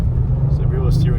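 An Audi RS6 C8 drives on a snowy road, its engine giving a steady low rumble for a brief moment.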